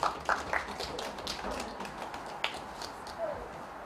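Scattered, fairly faint clapping from a small outdoor busking concert audience welcoming a city official, a few sharper claps standing out over a noisy background.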